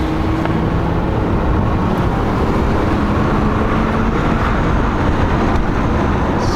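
Lexus LS400 engine held at full throttle, a loud, steady, dense roar that stays constant from start to finish with no spoken voice.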